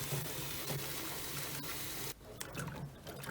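Water runs steadily over spa filters from an inflatable Lay-Z-Spa as they are washed out, a continuous close gushing rinse that briefly thins before carrying on.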